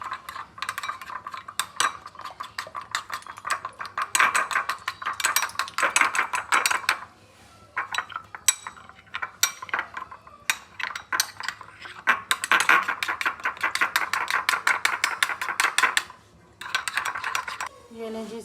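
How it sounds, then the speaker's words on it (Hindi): A spoon clinks and scrapes steadily against a bowl while a chocolate milk jelly dessert mixture is stirred, the bright metallic clatter running in bursts with short pauses, close and fairly loud, no talking. "इसके अंदर इसको अच्छी तरह मिक्स कर दें।"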